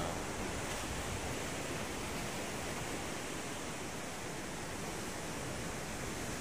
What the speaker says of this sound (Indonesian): Laut Samudra India ya,